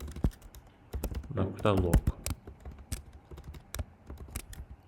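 Someone types JavaScript code on a computer keyboard, with sharp keystrokes in uneven bursts and a short stretch of talking partway through.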